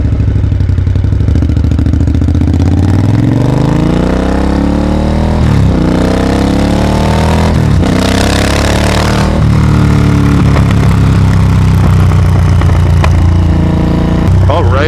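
A 2025 Triumph Speed Twin 1200 RS motorcycle with a full-system exhaust is heard on a ride, its engine loud and close and rising and falling in pitch as it revs through the gears.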